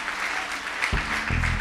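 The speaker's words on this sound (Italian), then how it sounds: "fate un applauso a Taiwan" Audience applause at a live music show on an Italian stage, a brief spell of steady crowd clapping joined by low thumping beats partway through.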